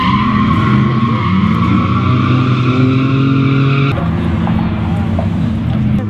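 Nissan Gazelle S12 drifting with its tyres skidding: a steady engine drone with a long, continuous tyre squeal throughout that shifts in tone near the end, with some voices faintly underneath.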